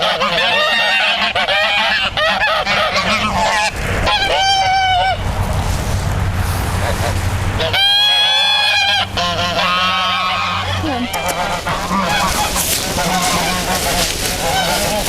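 Geese honk loudly and repeatedly in a farmyard flock with ducks and chickens, dense overlapping calls throughout with brief sharper bursts standing out.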